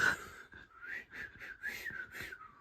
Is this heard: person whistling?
yes